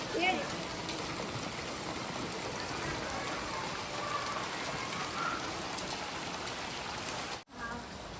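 Steady rain pours down in a constant dense hiss, with occasional drops pattering nearby, then a brief cut near the end.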